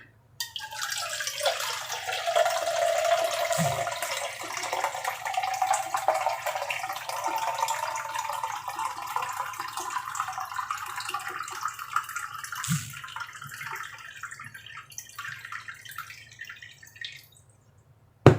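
Water is poured steadily into a container to make buko pandan gelatin, a close, continuous splashing stream that runs for well over ten seconds before tapering off.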